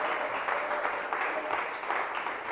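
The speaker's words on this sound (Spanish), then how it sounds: "¿Quiere usted darse un aplauso" A church congregation claps during a Spanish-language sermon on prayer, steady applause filling the room, with some voices mixed underneath.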